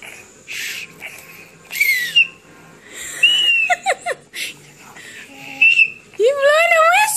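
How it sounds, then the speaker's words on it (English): Several short, bright whistle blasts with rising and wavering pitch, some weak and breathy, separated by pauses, close by. "All right, Raqeeb, this is a whistle."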